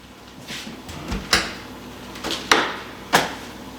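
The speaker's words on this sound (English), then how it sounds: "So what we're going to do is close the door" A few soft knocks and clicks, then a clear thump as a freeze dryer door shuts, followed by another latch-like clunk in a quiet room.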